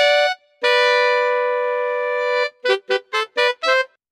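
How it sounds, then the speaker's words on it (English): A software horn section playing MIDI notes: a bright brassy tone, then a long sustained chord, followed by five short, punchy staccato stabs in quick succession. "let's change the software instrument that's being used to a horn section and it will sound like this."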